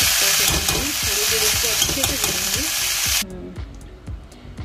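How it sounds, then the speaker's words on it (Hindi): Cumin and onion sizzle loudly in hot mustard oil, a dense crackling hiss close by that suddenly drops away, leaving soft clinks and stirring. "मैंने सरसों के तेल में जीरा और प्याज का तड़का देके"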